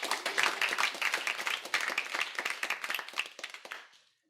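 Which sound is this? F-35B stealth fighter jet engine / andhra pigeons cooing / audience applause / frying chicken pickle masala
audience applause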